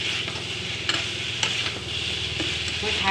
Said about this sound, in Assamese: মই অকণমান টাইম মই এনেকৈ ফ্ৰাই কৰি ল'ম।